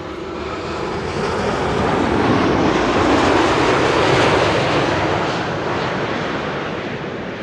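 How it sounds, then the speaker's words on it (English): A KLM airliner, flight 749 from Cartagena, arrives at Schiphol's Kaagbaan runway, its engines a loud, broad roar swelling to a peak mid-pass and then easing, with wind buffeting the microphone. "This is KLM flight 749 arriving from Cartagena."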